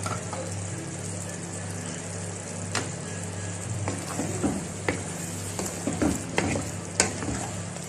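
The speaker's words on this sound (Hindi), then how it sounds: "इसमें हम डालेंगे हरी मिर्चें और इसको करेंगे मिक्स" Mutton karahi with green chillies sizzles and fries in a pan while a utensil stirs it, steady sizzle broken by several sharp scraping clinks toward the end; no talking.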